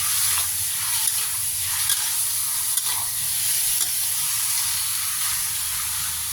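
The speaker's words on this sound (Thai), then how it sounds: "เจี่ยวต่อไปเรื่อยๆจ้ะ เจี่ยวจนกว่าน้ำมันหมูจะออกมานะคะ" Pork belly sizzles in a pan as its lard renders out, a steady close frying hiss with faint clicks of stirring and no talking.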